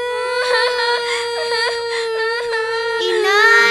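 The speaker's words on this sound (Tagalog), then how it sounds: "Huwag na kayo umiyak." Children cry in a loud, close, sustained wail with sobbing catches and rising and falling pitch, carrying on without a break.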